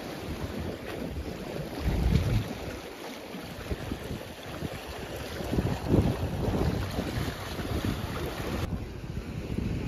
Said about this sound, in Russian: Надеюсь, меня не обрызгает морская волна.